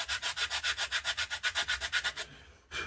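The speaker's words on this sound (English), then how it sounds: "Sand to the line, so it's nice and straight," Sanding a balsa fuselage side for an RC Coyote glider kit from Slec UK, with about sixteen quick, even back-and-forth rubbing strokes close by before a short pause and a final stroke.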